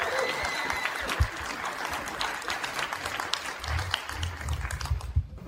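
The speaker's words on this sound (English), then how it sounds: "Please give her a round of applause." An audience at a Project Censored evening event during Social Justice Week applauds, a sustained wash of dense clapping that holds steady throughout before fading out at the end.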